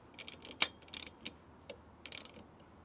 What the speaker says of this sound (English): So I've tightened the top one, and now I'm going to tighten the bottom one.